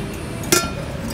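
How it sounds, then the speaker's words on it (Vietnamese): A single light metallic clink from the stainless steel 5-litre bowl of a mini dough mixer, one brief ring over a steady background hum. "Chất liệu là inox, đây là cái khoang inox, nồi inox ha."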